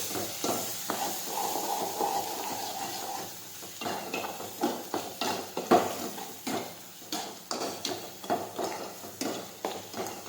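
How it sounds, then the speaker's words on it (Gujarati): Urad dal seasoning sautéing with salt and lemon juice in a pot, a soft steady sizzle under repeated clinks and scrapes of a stirring spoon against the vessel, close and fairly quiet. "મીઠું નાખીશું લીંબુનો રસ નાખીશું હવે આપણે સાતળી દઈશું"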